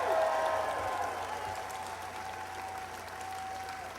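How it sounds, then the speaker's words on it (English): Applause from a large crowd at a political rally in Manchester, New Hampshire fills the whole span, a dense, steady roar of clapping with a few faint cheering tones running through it. "Give them a big round of applause."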